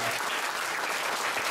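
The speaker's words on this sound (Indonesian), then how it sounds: "Tepuk tangan loh yang keras kali." An audience at a Creative Sharing event in Surabaya claps in a steady, even wash of applause, moderately quiet and unbroken, with no voices over it.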